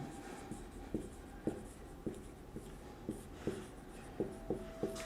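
Chalk writing on a board during a chemistry lesson, with light scratchy strokes and intermittent taps at an irregular pace over a steady room hum.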